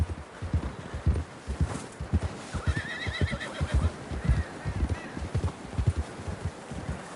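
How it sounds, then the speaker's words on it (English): Horse neighing and whinnying over steady clip-clop of hooves in Red Dead Redemption 2, a western video game set on a trail; rhythmic hoofbeats throughout, with a loud whinny in the middle. "John was riding that horse when we left Blackwater."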